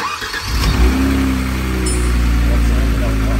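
A Kia Stinger GT engine revs up and then holds at a strong, steady hum after an ECU reset, loud and close, with people talking over it.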